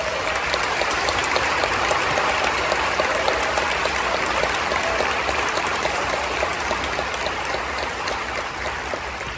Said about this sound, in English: I think we can give him an applause for this honor